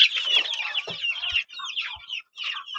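Chickens cluck and chatter close by in a steady run of high, busy calls, with a few short gaps, kept in hot weather in a home coop.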